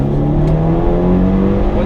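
A tuned 400HP Mitsubishi Evo 5 accelerates hard toward redline, its engine a loud, steady, close drone with tones that climb gradually and never let up.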